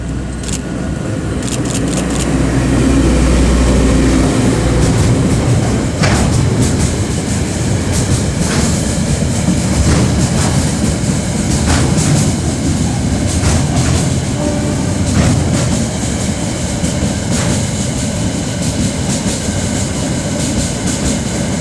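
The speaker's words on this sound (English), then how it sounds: "Here's DSG 3074 passing Napier Station with the U4A shunt to Hastings." Diesel locomotive DSG 3074 rolls past Napier Station hauling the U4A shunt train toward Hastings, a loud sustained rumble with wheel clicks and rail noise throughout, heard alone without voices.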